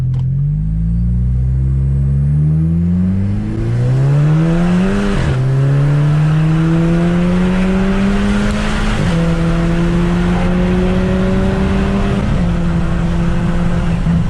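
A Volkswagen Golf GTI engine revving high, near and loud, its pitch climbing through several stepped rises with brief dips between shifts, sustained for over ten seconds with no talk.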